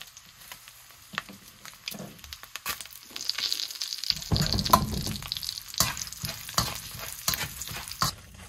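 Dried red chillies and tempering spices frying in hot oil, a crackling sizzle with stirring scrapes that swells louder midway, close and continuous with no talk.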